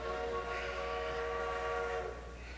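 A train's whistle holds a steady, sustained tone over a low rumbling hum, continuous and moderately loud with no talk.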